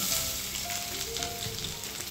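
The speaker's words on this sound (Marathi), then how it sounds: "आता इथे कढईमध्ये मी 2 चमचे तेल गरम करायला ठेवले आहे। त्यामध्ये मी 2 चमचे बारीक चिरलेला लसूण घालत आहे।" Finely chopped garlic sizzles steadily in two spoons of hot oil in a kadhai, a soft continuous crackling fry without pauses, close and fairly quiet.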